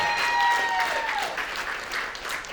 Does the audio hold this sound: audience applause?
yes